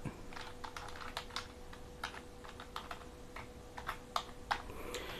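Fingers typing a password on a keyboard while setting up a TP-Link 4G LTE router: a quiet, irregular run of separate key clicks, some slightly louder, over a faint steady hum.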